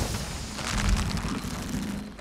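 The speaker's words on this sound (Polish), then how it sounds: "Eksplozja pewnie podniosłaby platformę." A broad, rumbling blast from the video game Shadow of the Tomb Raider, sustained and heavy for about two seconds with a low roar and crackling debris, heard alone without talk.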